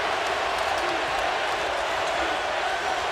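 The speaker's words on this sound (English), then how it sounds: "Crowd is deafening right now." Roaring basketball arena crowd at the 2013 NCAA championship game, Louisville versus Michigan, a dense, steady wall of cheering and shouting that never lets up.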